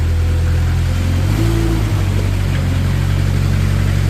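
A 2014 Moffett M55 truck-mounted forklift runs its engine loud and steady while tilting, side shifting and moving the mast in and out, with a hydraulic whine rising briefly midway over the constant drone.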